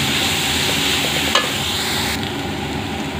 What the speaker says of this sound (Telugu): 5 minutes తర్వాత ఇవి బాగా ఫ్రై అయిపోతాయి.